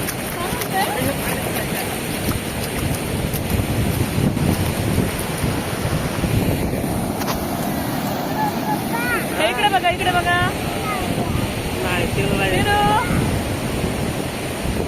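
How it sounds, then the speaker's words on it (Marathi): Strong, continuous rushing roar of a large, full river flowing fast close by, with voices talking over it in the second half. "नदीला पाणी भरपूर होतं आणि भरपूर जोरात पाणी वाहत होतं"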